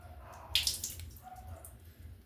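Water trickles and splashes from a leaking faucet in a quiet room, a faint gurgling flow with a brief louder spurt near the start, then a soft, uneven dribble.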